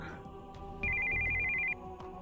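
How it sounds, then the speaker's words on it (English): Cell phone ringtone for an incoming call in the Steins;Gate 0 visual novel, a steady high electronic ring tone lasting about a second, rising clearly over soft background game music. "we heard the sound of an incoming call on the cell phone."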